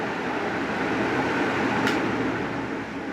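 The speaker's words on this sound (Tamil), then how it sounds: "ஃபேன் ஓடுறதுனால ஒரே இறைச்ச சத்தமாக இருக்கும்" An electric fan runs indoors, giving off a steady, broadband whooshing hum that stays even throughout with no speech over it.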